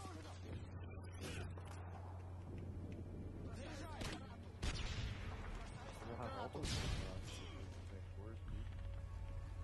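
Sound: gunfire in a first-person shooter video game

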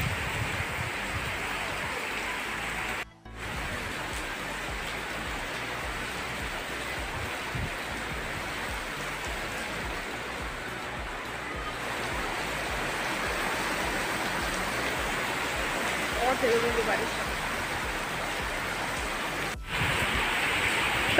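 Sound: heavy rain

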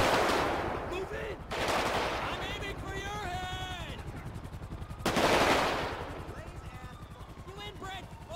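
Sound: gunfire exchange in video game GTA 5

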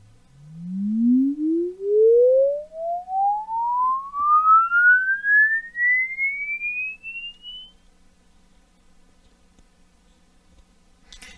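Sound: audio test frequency sweep tones while tuning speaker system

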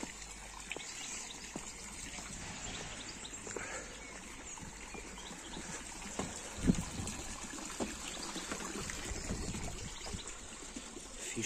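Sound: water trickling in a lotus garden

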